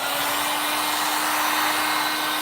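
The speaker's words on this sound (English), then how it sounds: "So hold on for the heat gun for a second." A heat gun blows hot air over curing epoxy resin in a loud, steady, continuous roar with a faint constant whine and no breaks or voices.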